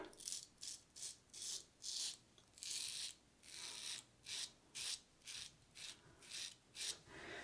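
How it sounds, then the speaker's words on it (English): Rhythmic scraping of a Rockwell T2 safety razor with a carbon steel blade cutting through stubble, a steady series of short, close rasping strokes repeating about twice a second, quiet and alone without talk. "now we have the Rockwell T2 with the Treat Falcon carbon steel blade in it. Let's do a shave."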